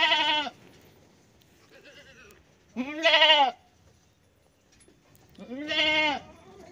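Goats on a small farm with three kids and five adult females bleat in three loud, wavering calls separated by pauses, with a fainter bleat in between.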